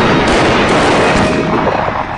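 A 7 mm short magnum rifle fires a single loud, roaring blast that fills the whole moment and rumbles on without fading, heard alone with no talking.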